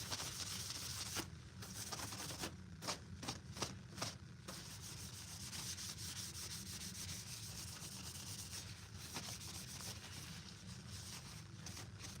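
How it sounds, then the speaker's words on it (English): A painted Mandalorian blaster prop is rubbed over to clear off dust, giving faint, continuous close scrubbing strokes with a few light knocks and taps. "I just want to kind of go over it all, rub it off with this, and hopefully get the spare dust off of there."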